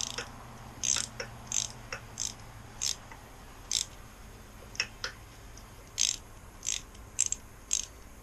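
A 1/4-inch drive ratchet with an extension clicks as it snugs bolts on a 2005 Kawasaki Ninja 250, in about a dozen short, crisp bursts of rapid ratcheting, close up over a quiet background.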